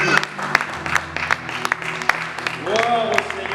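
Scattered, uneven hand claps rise from a wedding congregation at a ceremony in Moline, United States, sharp individual claps mixed with voices and sung or spoken tones in the background.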